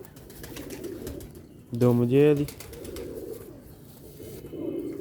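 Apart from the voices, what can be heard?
Sialkoti black-faced pigeons cooing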